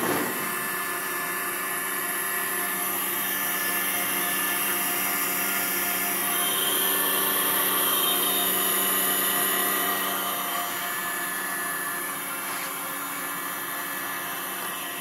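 A fatigue testing machine spinning a specimen gives a steady, loud mechanical whine and hum that holds evenly, swelling slightly midway, with no voices.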